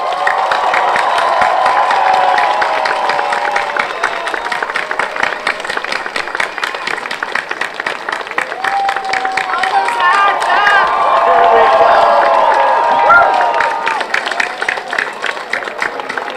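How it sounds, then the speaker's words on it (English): A large crowd at a university commencement ceremony applauds and cheers continuously, with dense clapping and whoops swelling and fading over a steady roar. "One more round of applause for them."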